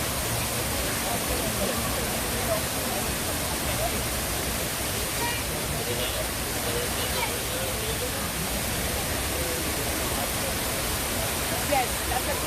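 Steady, loud rush of water cascading into the 9/11 Memorial pools in New York, a continuous broadband roar that stays even throughout with no breaks.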